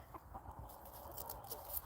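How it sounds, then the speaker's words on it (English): A small flock of chickens clucking outdoors in the sun, faint intermittent clucks and calls spread across the clip over low background noise. "the chicken show. I have my feathered posse here"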